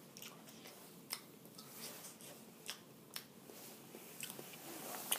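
Someone chewing frozen Smart Ones fish and chips close up, with soft crunchy bites and wet mouth sounds repeating irregularly at low volume, no talking.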